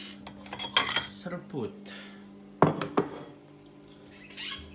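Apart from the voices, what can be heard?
odading fried dough being placed onto a plate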